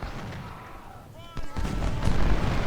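24-pounder artillery fires in the Civil War strategy game Ultimate General: Civil War, with a low rumble of cannon and battle noise building near the end, plus a brief tonal game sound.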